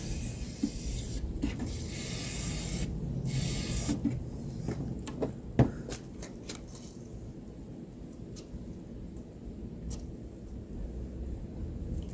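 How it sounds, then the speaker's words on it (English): WD-40 sprayed in two short hissing bursts onto the upper radiator hose and fitting of a 1999 Ford Expedition XLT 5.4-liter V8, followed by quieter clicks and handling noises in a garage. "We're going to use a little water displacement 40 on the hose and the nozzle there."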